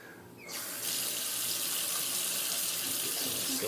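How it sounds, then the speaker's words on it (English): A shaving soap puck rinsed under a running tap: water starts after a brief quiet moment, then pours steadily and closely into a sink, a constant splashing rush without any voice. "I'm gonna go ahead and just rinse the puck off here real quick"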